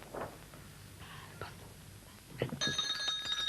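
A bell rung by a team buzzing in first to answer on a Polish TV quiz show rings out near the end, a steady tone over quiet studio murmur.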